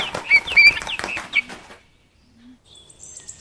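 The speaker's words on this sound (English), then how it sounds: "eagle" An eagle gives several sharp, descending high cries in quick succession, fairly loud at first, then fades to near silence with only faint thin calls afterward.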